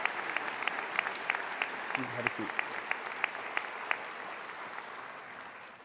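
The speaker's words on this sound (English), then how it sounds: "Let's give our coders a round of applause as well." Sparse, scattered clapping at a white coat investiture ceremony for medical students, a few distinct hand claps spread across the moment while a voice speaks briefly.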